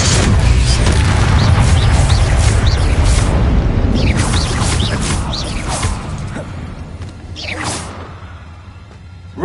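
A Confringo fire-blast spell detonating in Hogwarts Legacy, a loud booming burst with whooshing debris and creaking, rattling mechanisms that gradually die away.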